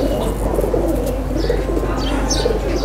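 Pigeons in a loft giving low repeated coos and a few higher chirps, moderately close over a constant background hum.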